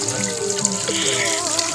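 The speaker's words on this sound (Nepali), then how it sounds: "यता मेरो डेमाले आफ्नो पानीहरू भर्दै हुनुहुन्छ" Water runs from a tap into a container being filled, a steady close splashing gush with bubbling, gurgling ripples throughout.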